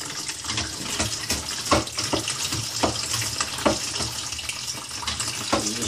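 A sink that was clogged now drains freely, water rushing and gurgling loudly and continuously up close, with intermittent splashy bursts and no talking.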